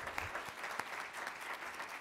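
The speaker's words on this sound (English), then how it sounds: "let's give them all a wonderful round of applause" Steady audience applause at a conference during a memorial scholarship presentation, a dense, even patter of many hands clapping at moderate distance, filling the whole moment without pause.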